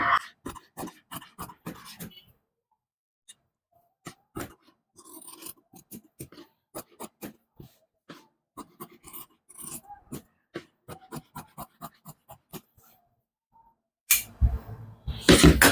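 Scissors snipping through cloth while cutting out a school uniform shirt, a run of short crisp cuts in irregular bursts with quiet gaps, close by, ending in a louder rustle of fabric being handled.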